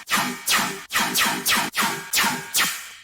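A raw dubstep synth bass with no processing plays alone in six or seven repeated bursts, each bright, buzzy note opening up and then sweeping downward before the next starts, loud and close.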